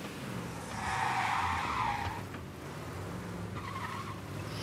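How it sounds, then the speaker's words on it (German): Car tires squeal in the video game Mafia: Definitive Edition during a police chase, a loud screech lasting about a second over a steady engine drone, followed by a shorter, fainter squeal. "Ja, quietschen die Reifen."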